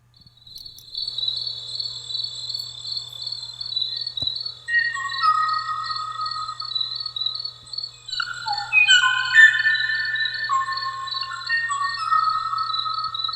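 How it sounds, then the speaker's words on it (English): A recording of the last known call of the Kauaʻi ʻōʻō: a steady, high insect drone fills the background, and clear whistled bird notes rise over it in the second half, faint and distant, with no voices. "This is known as the saddest sound in the world. The final call of the kawaii o-o."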